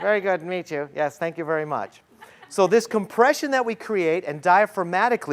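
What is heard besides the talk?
None of the usual background noises is heard.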